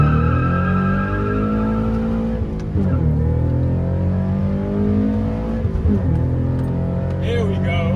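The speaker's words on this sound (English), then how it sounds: "rev it a little bit." Car engine held at a steady rev with clutch in and traction control off, loud and near, dipping and rising briefly around the midpoint, with a faint voice near the end.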